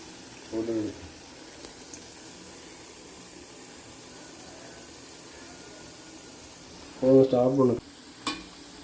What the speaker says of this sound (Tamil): ஸோ கோபி வந்து இப்போ ஃப்ரை ஆகிட்டுருக்கு